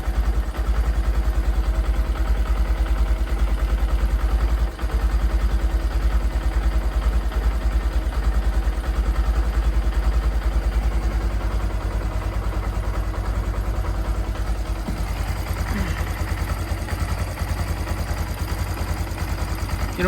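A Honda Grom motorbike with a new engine idles steadily, a constant low ticking engine drone held close for the whole stretch with no talk.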